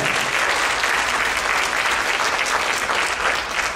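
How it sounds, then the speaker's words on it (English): An audience applauds steadily throughout at a stage finale event, a dense, sustained wash of many hands clapping at even loudness with no pauses. "thanks Gwen, can everybody give her another clap?"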